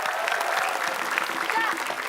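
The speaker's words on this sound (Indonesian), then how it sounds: "Boleh kasih tepuk tangan?" Studio audience applauding on an Indonesian comedy show, a steady wash of many hands clapping throughout with a few voices and whistles mixed in.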